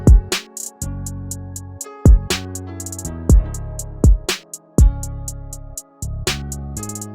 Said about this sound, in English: And moving on to the drums, which sound like this.